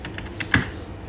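Keystrokes on a computer keyboard, a quick run of five or six light taps with one louder press near the middle, close and alone.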